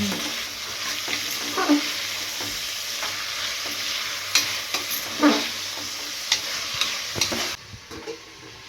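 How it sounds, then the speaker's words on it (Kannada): Vegetables are stirred in an oiled pan for pulao, giving a steady soft sizzle with intermittent scraping strokes of the spoon, close and moderately loud, with no talk. "ಈಗ ಮತ್ತೆ ಮಿಕ್ಸ್ ಮಾಡ್ಬೇಕನ ಈಗ"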